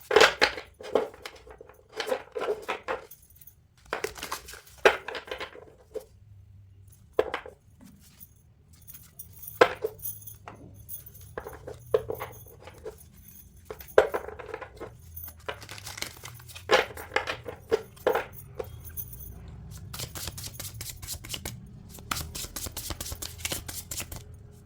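Deck of cards shuffled by hand for a Valentine's Day tarot-style card reading, giving repeated crisp riffling bursts and soft slides in separate spurts with pauses between, close and fairly quiet.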